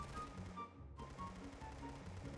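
Rapid, continuous gunfire from the Roblox game Arsenal sounds as a dense stream of synthetic shots with a brief dip partway through, loud and close with no voice over it.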